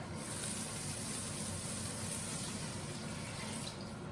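Water poured into a pot for a seafood boil on a high-heat stove, a steady continuous rush of liquid running for several seconds at even, moderate loudness with no talking.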